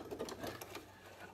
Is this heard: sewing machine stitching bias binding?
yes